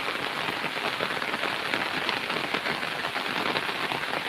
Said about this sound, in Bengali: দেখেন প্রচুর বৃষ্টি হচ্ছে